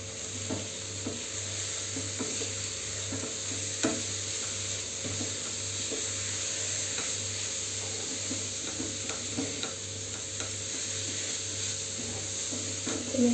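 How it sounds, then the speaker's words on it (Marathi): Dry fruits being stirred into freshly cooked carrot halwa in a pan, with soft repeated scraping and mixing under a low steady sizzle and hiss, no talk. "आपण आता ह्याच्यामध्ये हे जे ड्राय फ्रुट्स आहेत ते ॲड करूया आणि मिक्स करायचं आहे व्यवस्थित"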